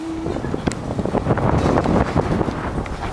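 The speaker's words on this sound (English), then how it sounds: "And it's windy out." Wind gusts buffet the microphone in a parking garage, giving a steady broadband rumble that fills the whole clip with no voices.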